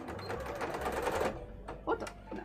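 A sewing machine stitches up the bottom of a fabric plushie in a quick burst of rapid clatter, then stops, leaving a few faint handling sounds.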